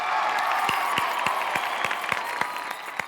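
A small audience claps in a steady, even patter at a gathering in the Indian sitcom Taarak Mehta Ka Ooltah Chashmah, the applause sustained throughout and fading slightly at the end.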